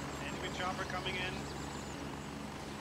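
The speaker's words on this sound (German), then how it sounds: "feindlicher Heli" An enemy helicopter in the military shooter Gray Zone Warfare produces a faint, steady rotor and engine drone. Players' voices talk over it.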